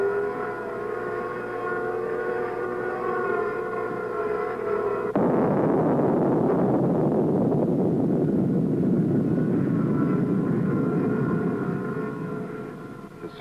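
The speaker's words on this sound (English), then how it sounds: "The buzzing sounds over the Earth noises are from helicopters flying overhead." A geophone recording of the 1961 Operation Gnome underground nuclear explosion: a low, rumbling roar swells suddenly after the steady droning buzz of helicopters overhead, then eases as the buzzing returns over it, continuous and fairly loud.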